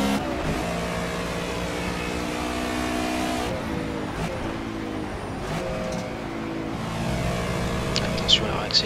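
A race car accelerates on track in Project CARS, GT Touring at Silverstone, its engine droning and rising in pitch through repeated gear changes, with a commentator talking over it.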